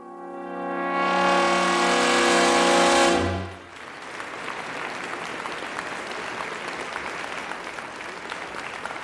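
Theatre audience applause in a radio drama swells loudly for about three seconds, then drops to a softer, steady patter of scattered clapping that continues through the rest of the clip.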